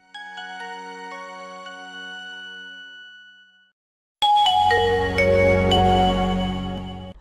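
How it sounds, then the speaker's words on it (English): A Nokia mobile phone ringtone plays as a clear electronic melody of bright, chiming notes. After a short silence, a louder and denser burst of ringing tones follows, with no talking. "Nokia phone had a distinct ringtone that became very"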